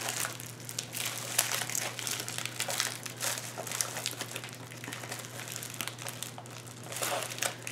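Diamond painting canvas with tape stuck to it is handled and peeled, giving a steady close crinkling and crackling of plastic film throughout, with a low constant hum underneath.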